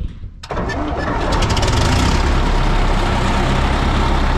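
The engine of a Fortschritt E512 combine harvester cranks briefly with a starter whirr, then fires and settles into a loud, steady, close rumble.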